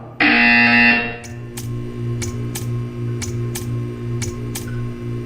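Test chamber buzzer in the Portal 2 video game: a loud tonal electronic blare lasting about a second, followed by a steady low hum with a regular series of sharp ticking clicks.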